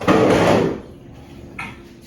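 A small door on a Lego modular building set swings open with a short plastic click and scrape at the start, then a brief lighter tap follows, close by and alone.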